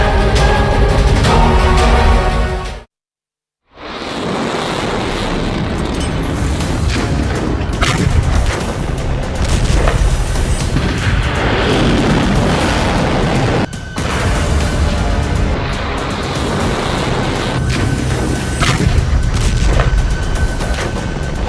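A huge explosion sound effect standing for a nuclear bomb blast: a loud rumbling roar, then a sudden total silence, then another massive booming blast that rolls on with crackling debris and a deep sustained rumble.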